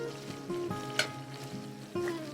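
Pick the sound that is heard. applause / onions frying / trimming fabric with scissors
onions frying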